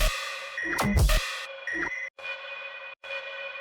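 Layered sample-pack effects ring out over drums: a burst of metallic clangs and sweeps, then sustained bright tones broken by short gaps, fairly quiet overall.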